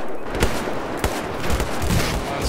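Battlefield 4 gunfire crackles in repeated sharp bursts, a few louder shots standing out over a busy battlefield din, with no talk.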